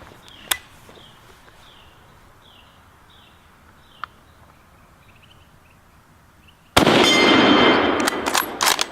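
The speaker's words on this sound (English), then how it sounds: "Let's load this German Mauser and shoot it." A German Mauser K98 bolt-action rifle in a video game fires a couple of sharp, isolated shots over quiet outdoor ambience, followed by a loud sustained burst of noise near the end.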